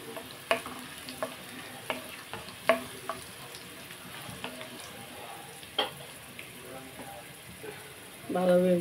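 Frying in a pan for gongura pickle crackles steadily, with sharp spatula taps and scrapes punctuating the sizzle and a louder stir at the end; no speech heard.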